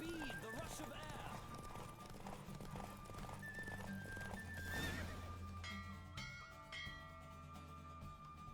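A racehorse gallops at full speed in The Witcher 3, hooves drumming beneath loud neighs and whinnies, then slowing as bells ring out near the finish, with voices speaking over the action.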